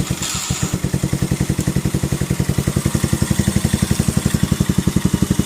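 Stock-carburetor motorcycle engine idling too high, a fast, even, steady putter of close, loud exhaust pulses with a mechanical clatter and no talk.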